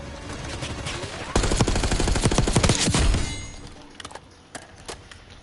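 A dense burst of rapid automatic gunfire from a multiplayer Black Ops 6 match on PS5, loud and close for a couple of seconds, then fading into scattered single shots and thuds.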